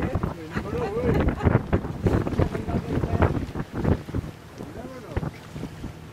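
A sailing yacht moves through open sea between Plymouth and Cork, with steady wind buffeting the microphone and water rushing along the hull, while people talk over it throughout.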